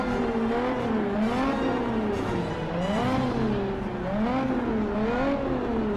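Race car engines in the video game Cars: Fast As Lightning, a loud steady whine that rises and falls in pitch as the cars accelerate and ease off, with no talk over it.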